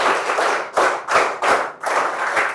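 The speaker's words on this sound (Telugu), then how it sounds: "గట్టిగా చప్పట్లు కొట్టి అభినందించండి" An audience applauds a student's third-place ranking at a school gathering with students and parents in Rampachodavaram, the clapping loud and close, coming in several surging bursts with brief dips between them.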